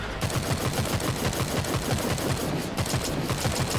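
Rapid automatic gunfire from the Stormland VR game, a steady stream of loud, close shots with a rhythmic rattling pulse that runs without pause for several seconds.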